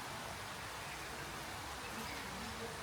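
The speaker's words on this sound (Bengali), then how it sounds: "অনবরত বৃষ্টি চলছে" A faint, continuous hiss of rain falling steadily, with no pauses or other sounds standing out.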